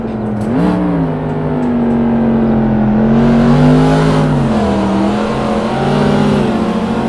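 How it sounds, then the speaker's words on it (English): A 1995 SVT Cobra R engine revs hard and holds high on the Nürburgring Nordschleife, pitch rising and wavering as the rear wheel spins up, loud and close with no talk. "you could hear it spinning that back wheel up"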